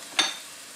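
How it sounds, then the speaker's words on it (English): Chopped onion hits hot oil in a pan: one brief, bright sizzle burst that fades quickly into a quiet hiss, close and alone. "So we are going to go ahead and add in our onion. Oh, and hear that sizzle."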